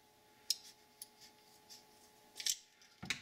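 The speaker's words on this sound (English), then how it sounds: "Okay, so I'm just going to go ahead and cut a little hole." Scissors or a blade cutting a small hole in a plastic bottle cap, a few faint, sharp snips and clicks spaced unevenly in a quiet room.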